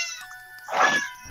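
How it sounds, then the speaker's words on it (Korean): A house cat lets out one short, rising meow, close and fairly loud, in a quiet indoor room, followed by a brief knock at the end. "저도 지금 고양이 갑자기 왜 울어요"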